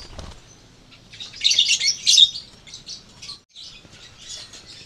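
Lovebirds chirp in bright, rapid bursts, a cluster of sharp tweets in the middle followed by softer scattered calls, close and without talk.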